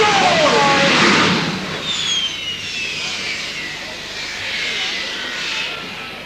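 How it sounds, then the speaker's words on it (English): A powerful jet truck engine roars and whines loudly, surging then easing into a sustained rumble, heard from fairly close outdoors at a power sports festival. "That is some thrust down the back of that truck"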